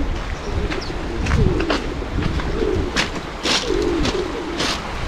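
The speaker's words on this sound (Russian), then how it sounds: "В данном случае голуби." Pigeons coo repeatedly in soft, rolling phrases on a street leading down to the sea at Lazarevskoye, Sochi, with steady outdoor background noise and occasional brighter bird chirps.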